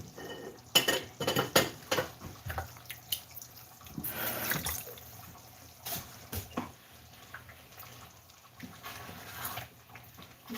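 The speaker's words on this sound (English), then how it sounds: "I'm about to stir it a little bit." A pot of peanut butter gizzard stew being stirred, with loud bursts of clanking utensils and metal scraping against the pot, followed by quieter intermittent knocks and a faint background hiss.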